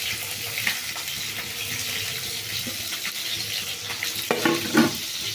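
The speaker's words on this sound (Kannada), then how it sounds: "ಈರುಳ್ಳಿ ಚೆಂದಾಗಿ ಎಣ್ಣೆನಲ್ಲಿ ಫ್ರೈ ಆಗೋವರೆಗೂ ಹುರ್ಕೊಳ್ಳೋಣ." Sliced onions and green chillies fry in hot oil in a home kitchen pan, a steady soft sizzle with occasional stirring clinks and scrapes near the end.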